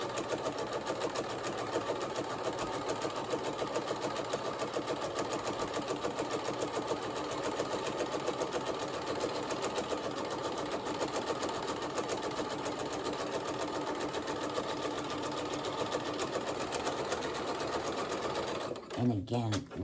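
A home sewing machine shirring garment cuffs for a New Look N6712 pattern runs steadily and close for nearly the whole stretch, a continuous whirring motor with fast needle rhythm, then stops abruptly near the end.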